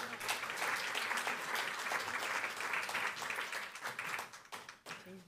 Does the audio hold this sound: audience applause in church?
yes